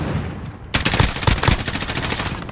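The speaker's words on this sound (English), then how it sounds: "Is someone shooting at me?" Rapid bursts of gunfire from a Call of Duty Modern Warfare multiplayer match erupt suddenly after a quieter stretch, loud and continuous, with repeated sharp shots rattling on for about two seconds.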